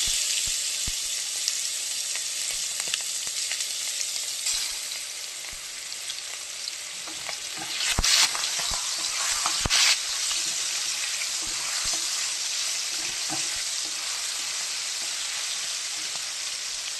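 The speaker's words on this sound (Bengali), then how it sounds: "চিংড়ি মাছটা ভেজে নিচ্ছি" Prawns fry in hot oil, sending up a constant loud sizzle that runs unbroken, with a couple of sharper crackling bursts partway through as the pieces spit in the pan.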